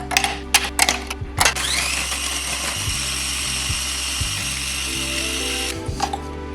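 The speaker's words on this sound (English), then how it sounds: "take our Oreos and grind them in our food processor until they're nice and fine." A food processor grinds Oreo cookies into fine crumbs, starting with short clattering pulses before settling into a steady whirring motor drone with rattling pieces, close and loud with no speech.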